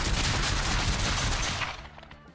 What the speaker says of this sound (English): Now in order to load the gun, you just have to grab some shotgun ammo and then flip the gun up and then just fire away.